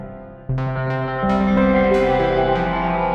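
Distorted electric guitar chords played in a steady sequence, driven into a Strymon NightSky reverb pedal, each strum washed in a long reverb tail that sustains and builds.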